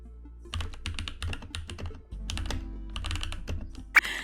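A Keychron K8 mechanical keyboard fitted with a foam mod clacks under bursts of fast typing, with a brief pause midway and one sharper click near the end, close and without speech.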